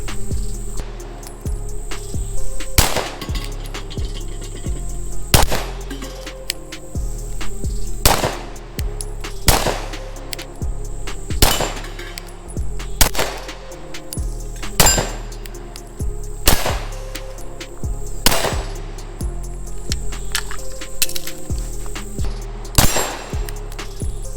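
A CZ P07 pistol fired at a range, sharp loud reports in paced single shots and quick pairs, with brief ringing gaps between them.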